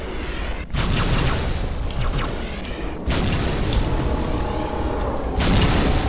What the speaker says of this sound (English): These cannons keep targeting me right away